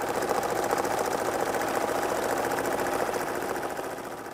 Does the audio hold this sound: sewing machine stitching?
yes